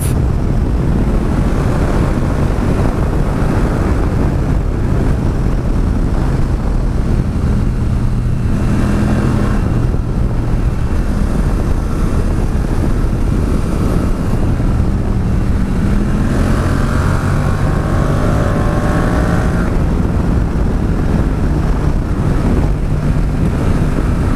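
Motorcycle ridden on a test track over an undulating road surface, a loud continuous engine drone mixed with heavy wind rush throughout, with no talking.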